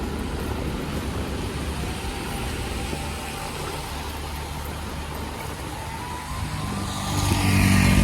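A car rolls slowly along a road in the Lembah Anai river valley, its steady engine and tyre rumble close and continuous, swelling louder in the last second as it passes.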